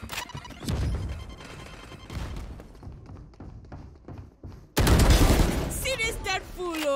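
A grenade goes off in the shooter game Valorant. Scattered thumps and gunfire-like hits come first, then one sudden loud blast near the end with ringing debris after it. Light talk sits under the game audio.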